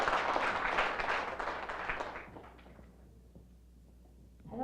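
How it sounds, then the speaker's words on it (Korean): An audience at a business presentation claps to welcome a speaker to the stage, a dense burst that fades out over about two seconds into quiet room tone before a voice begins. "큰 박수로 맞이해 주시기 바랍니다."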